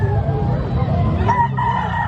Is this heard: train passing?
no